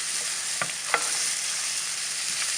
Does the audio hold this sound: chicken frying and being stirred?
yes